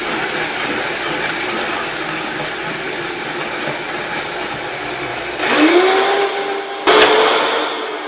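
A blender grinds cashews with water for cashew cream cheese in a loud, steady whir. The motor pitch shifts upward near the end, with a short stop and restart.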